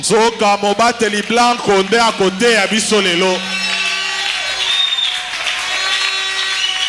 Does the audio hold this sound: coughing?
no